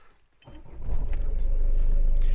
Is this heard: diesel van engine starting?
yes